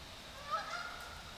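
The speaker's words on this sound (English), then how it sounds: "The geese are flying overhead." Faint honking of geese passing overhead, a few distant calls over a quiet outdoor background.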